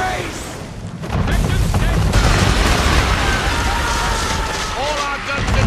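Cannon fire from a man-of-war ship in Assassin's Creed III, a heavy booming barrage of blasts that swells into a sustained rumbling roar, loud and close, with voices shouting under the noise.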